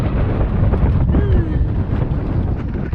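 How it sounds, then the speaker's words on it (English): Strong wind gusts buffet a reefed sailboat off Nicaragua, a loud, roaring rush of wind noise battering the microphone without pause, with deep low rumble and faint hints of a voice underneath. "the wind gusts are so strong"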